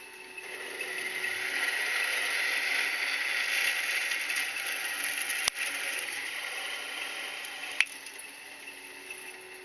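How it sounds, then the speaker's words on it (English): A drill bores a hole in a Harbor Freight 30-inch bending brake, giving a steady whirring grind that holds for several seconds, with a couple of sharp clicks near the end. "let's get that sucker drilled"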